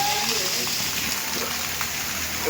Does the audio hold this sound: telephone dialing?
no